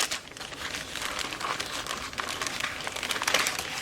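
Paper crinkling as an envelope of goodies is opened, close and continuous rustling and crackling with irregular bursts, no voices.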